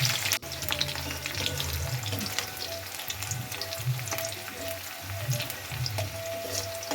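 Onions fry in oil in a pan for khichuri, a close, steady sizzle and crackle with soft stirring sounds, and no voices over it.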